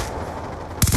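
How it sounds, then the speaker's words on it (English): Suppressed gunfire in a first-person shooter video game, a quick muffled burst of shots at the end of a noisy, steady game soundscape. "Suppressed gunfire."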